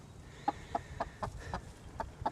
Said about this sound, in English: One of the younger hens.